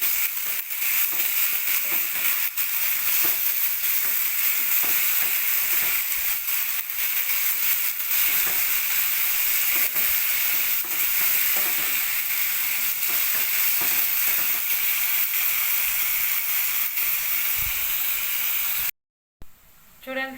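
Onions with ginger garlic paste fry in a pan for a prawn and egg masala curry, a close, continuous crackling sizzle that holds evenly and briefly cuts out near the end.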